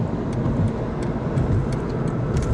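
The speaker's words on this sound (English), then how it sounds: "I got a truck here." A truck passes on the road during a drive near Halifax and Millersburg, Pennsylvania, a loud, steady roar of engine and tire rumble that fills the clip from start to end with no speech.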